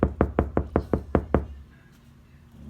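Seven rapid knuckle knocks on a car door lined with KilMat sound deadening, close and firm with a solid, damped thud, followed by a moment of quiet.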